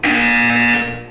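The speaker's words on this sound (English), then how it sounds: "You will hear a buzzer. When you hear the buzzer, look up at the ceiling." A loud, close electronic buzzer from the video game Portal 2 sounds once as a single sustained harsh tone for about a second, then fades out, with no talking over it.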